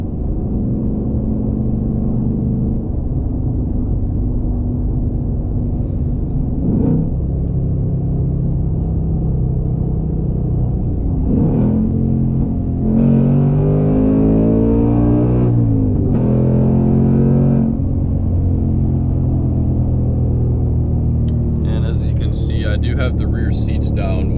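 A deep, throaty modified V8 engine of a Ford S650 Mustang GT rumbles steadily and loudly, swelling into brief revs midway, with a distorted, heavy exhaust tone throughout.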